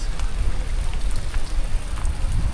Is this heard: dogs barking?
no